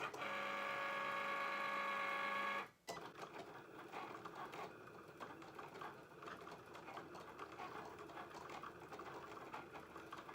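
Cutting machine for Dollar Tree frame farmhouse decor runs with a steady tonal whir for under three seconds, then stops abruptly, leaving faint room noise and light handling sounds.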